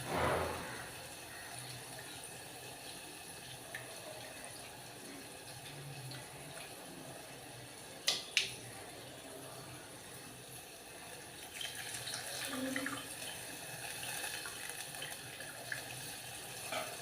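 Water poured into soaked tamarind while making Telugu spinach dal, a faint, steady trickle and splash running for several seconds in a quiet kitchen, with a couple of brief clinks midway.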